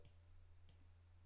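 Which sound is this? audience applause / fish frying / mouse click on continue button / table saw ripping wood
mouse click on continue button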